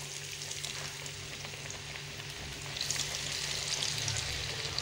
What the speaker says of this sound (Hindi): तो अब हम बैंगन फ्राई कर लेते हैं।